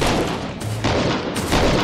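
Dense gunfire rings out in the action RPG The Incredible Adventures of Van Helsing, a continuous loud barrage of shots and impacts with brief dips and no talking.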